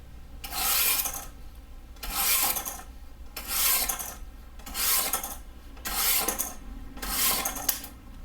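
Knife blade drawn through a pull-through sharpener, six raspy scraping strokes at an even rhythm about a second apart, close and distinct with no talking.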